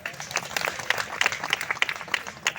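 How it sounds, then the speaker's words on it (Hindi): An audience at a public gathering breaks into steady applause, a dense patter of many hands clapping at moderate distance for a couple of seconds. "उन सबके सम्मान में भी जोरदार तालियां हो जाएं"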